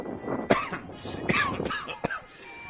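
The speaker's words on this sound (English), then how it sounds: "And I'm going to cough a little bit." A baseball game announcer coughs several times in quick, sharp bursts mixed with throat clearing, close to the microphone, with brief speech sounds in between.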